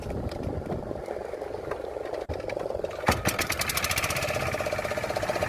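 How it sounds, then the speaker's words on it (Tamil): A fishing boat engine sputters, then catches with a sharp start and settles into a fast, steady chugging idle, loud and close. "ஸோ வந்து இன்ஜின் ஸ்டார்ட் பண்ணியாச்சு."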